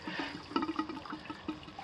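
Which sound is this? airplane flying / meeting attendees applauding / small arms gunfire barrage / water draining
water draining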